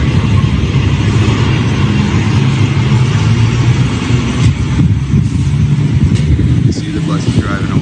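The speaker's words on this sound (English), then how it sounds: "See the bus is driving away." A bus pulls away on a street, its engine a steady loud mid-range rumble with road noise throughout, while people talk over it.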